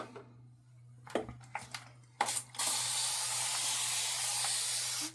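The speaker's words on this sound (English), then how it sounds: "I think my spray bottle's almost empty." A nearly empty spray bottle puffs water onto a face before a shave, a few short hissing spritzes followed by a long, steady spray hiss near the microphone, with a faint low hum underneath.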